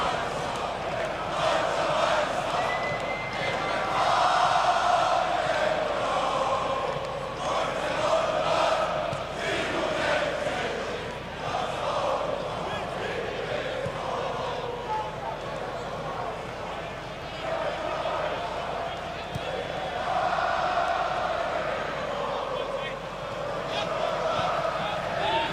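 Football stadium crowd at a Germany vs Northern Ireland under-21 EURO qualifier, a sustained roar of distant voices and chanting that swells and dips, with commentary talking over it.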